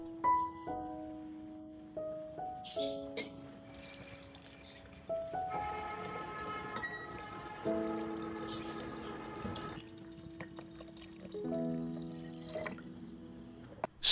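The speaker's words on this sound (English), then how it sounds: "Pour 500 milliliters of water." Water pours into a jar, a quiet, close trickle whose pitch shifts as the jar fills, with a few drips.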